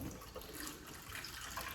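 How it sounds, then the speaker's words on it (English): Tap water running into a kitchen sink while a measuring cup is rinsed, a steady soft splashing rush throughout, fairly quiet and without voices. "I'm gonna rinse it off with some water."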